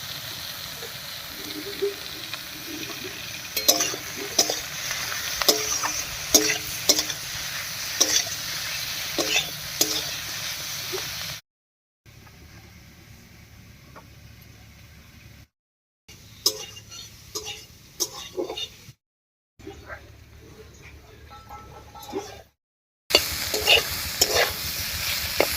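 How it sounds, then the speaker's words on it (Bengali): Mushrooms sizzling and frying in hot oil while being stirred, with steady crackle and repeated scraping stirs, broken by several short silent gaps before the sizzle returns. "তেলের উপরে মাশরুমটা দিয়ে একটু নাড়িয়ে নিয়েছি।"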